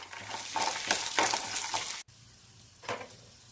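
Peanuts, cumin seeds and a small piece of ginger fry in hot oil for a quick peanut chutney, giving a steady close sizzle with brief scraping stirs, a short pause, then more sizzling.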